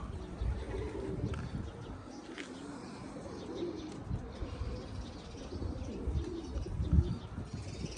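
Pigeons coo softly in low, repeated throaty calls, with a bird chirping now and then over a rustling outdoor background.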